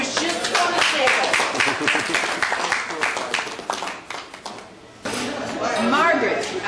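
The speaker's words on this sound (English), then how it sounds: "give a big round of applause to Scotty for setting up our new tour" A reunion crowd at a 2004 class of 1949 gathering breaks into a dense burst of clapping that thins out, then voices and chatter take over after a short pause.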